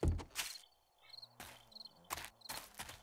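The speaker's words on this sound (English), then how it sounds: "We definitely hear the crickets," Crickets chirping at nightfall in the video game 7 Days to Die, with faint, intermittent chirps mixed among louder short thuds and footstep-like noises.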